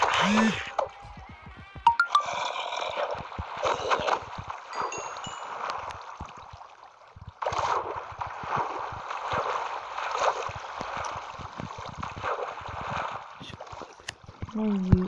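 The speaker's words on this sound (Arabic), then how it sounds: "كثرة المي صراحة في هذا المعبد الماء واللافا كثير جدا جدا في هذا المكان" Water flowing and gurgling inside a temple in the video game Minecraft, a steady washing stream broken by splashy bursts and pings, with someone speaking over parts of it.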